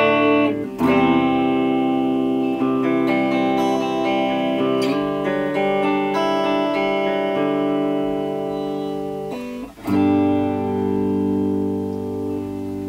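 A Pango kit-built electric guitar played through a PV Special 20 tube amp rings out in sustained, slightly overdriven chords and notes, strummed a few times with long decays, loud and close with no talking.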